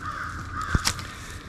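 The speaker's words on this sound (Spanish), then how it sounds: "Los cuervos siempre avisan. Siempre dan la alarma." Crows give an alarm call in a forest: a short, sharp caw and a quick second call, close and fairly loud against quiet woodland background.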